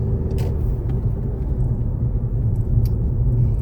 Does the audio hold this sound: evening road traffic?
yes